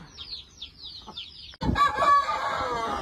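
Chickens at a poultry farm in the egg-laying stage give a run of high, rhythmic clucks and calls, then a sudden louder burst of clucking and squawking with a clear tone, nearby.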